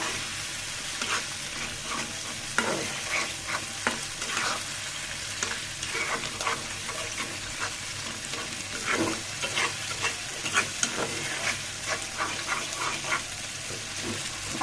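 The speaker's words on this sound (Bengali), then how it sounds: "একটু নেড়ে চেড়ে রান্না করে নিচ্ছি" Fish offal frying in a pan for a Bengali recipe, a constant close sizzle with irregular scraping stirs spread throughout and no voices over it.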